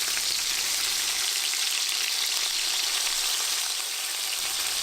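Chicken cutlets for piccata fry in a pan, already browned on one side, giving a steady loud hiss and crackle of sizzling oil that runs the whole time without pause.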